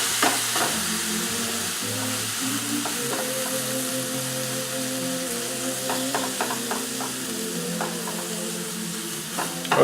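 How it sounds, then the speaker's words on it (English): Onions and clams sautéing in a pan give a continuous, close sizzle with occasional sharp crackles and pops throughout. "we're just going to let these kind of saute until the onions give off like a really nice smell"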